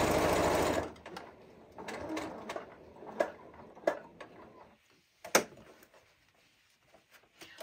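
A sewing machine runs briefly at the start while stitching a fabric bowl cozy, then gives way to scattered clicks and taps of handling the presser foot and fabric, close and fairly quiet.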